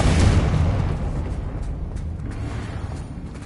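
A Confringo spell explosion from the Hogwarts Legacy video game booms loudly at the start, then decays into a long rumbling tail with faint crackles and scattered pops.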